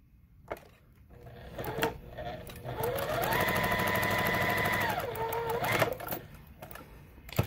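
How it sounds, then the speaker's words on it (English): A sewing machine stitches a quilt block in one sustained run of a couple of seconds, its motor humming and needle tapping rapidly, preceded and followed by handling clicks and thumps at close range. "So you're going to just sew it."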